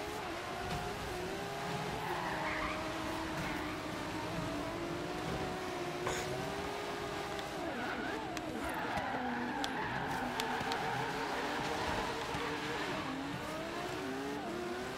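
A Ferrari F12 drives fast in Forza Horizon 3, its engine roaring at steady high revs as the pitch slides up and down through gear changes, with some tire squeal mixed in and no talking.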